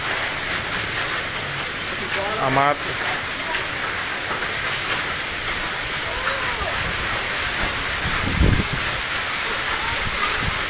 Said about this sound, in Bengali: ব্যাপক শিলাবৃষ্টি হচ্ছে। শিলাবৃষ্টির সাথে বজ্রপাতও হচ্ছে।